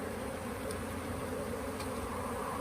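A steady, dense drone of honey bees buzzing around an open hive, continuous and close, with no voices over it.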